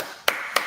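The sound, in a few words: clapping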